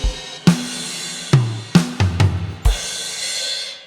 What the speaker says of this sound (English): I've got the snare and the crash.